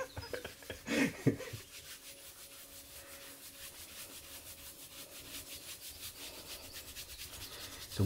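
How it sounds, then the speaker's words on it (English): Hands rub over a person's ribs during a relaxing ASMR massage, producing steady soft friction with a sharper burst of rubbing near the start, close and alone without talk. "So I'm rubbing the ribs here to allow them to really expand in this posture"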